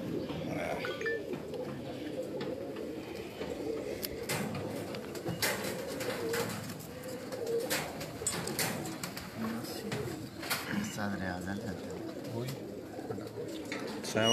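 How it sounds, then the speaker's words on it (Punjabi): Pigeons coo steadily and close by on a rooftop, a continuous layered murmur of calls, with people talking underneath. "ਬੜੇ ਅੱਛੇ ਕਬੂਤਰ ਹੈ"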